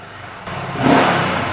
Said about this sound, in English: That pea shooter exhaust,